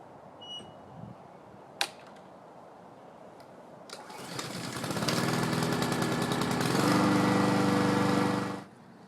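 A Honda HRS216 walk-behind lawn mower with a single mulching blade is pulled to start and then runs steadily, a loud sustained engine drone with a slight pitch shift, preceded by a few faint clicks and a sharp knock.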